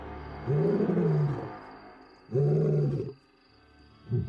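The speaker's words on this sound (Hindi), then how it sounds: "एक शेर के तौर पर उसकी दहाड़ बड़ी ही दमदार थी।" A lion's roar comes through as deep, powerful, drawn-out grunting calls, two long bellows separated by a pause and a third one starting at the end, loud and close with no talk.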